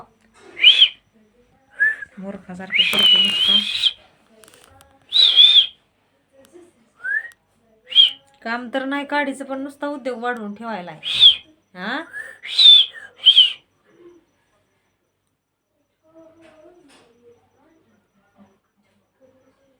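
A child whistles in short, high, repeated bursts, mixed in with nearby talking and some shuffling.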